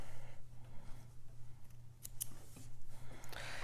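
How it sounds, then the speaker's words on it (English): A few quick snips of scissors clipping sewing threads after backstitching a seam, close and fairly quiet over a low steady hum in the room. "And I'm clip my threads."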